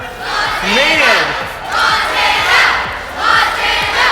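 A crowd of students at a student weekend event chants and cheers in rhythmic waves, loud and close, with rising shouted voices swelling three times.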